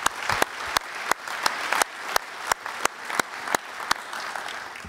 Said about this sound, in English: Please give the panel a round of applause for all of the effort.